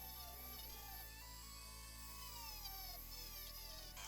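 A plug-in Dremel rotary tool runs steadily at high speed, a close continuous whine with shifting tones as it works on a 1956 Ford Prefect Matchbox model during restoration, with no voices.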